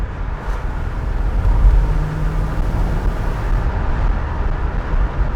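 A 1985 Chevrolet El Camino SS with a 305 V8 drives along the road, its steady low engine rumble and road noise continuous and fairly loud throughout, with no voices.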